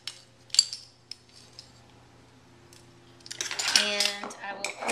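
A metal utensil clinks against a bowl while cauliflower popcorn seasoning is mixed, with a few sparse taps first and then a busier run of scraping and clinking toward the end, under quiet background hum.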